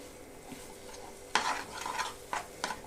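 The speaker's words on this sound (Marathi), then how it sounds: "मंद गॅसवरतीच मी हा खवा जवळजवळ वीस ते पंचवीस मिनटं छान" Khoa is stirred and roasted in a pan on low gas, giving a soft steady sizzle with a few louder scraping strokes of the spoon against the pan.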